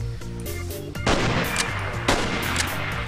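Gunfire in the Minecraft PE video game during a zombie and werewolf battle: a loud, sharp burst of rapid shots, then a heavier blast with a ringing, echoing tail.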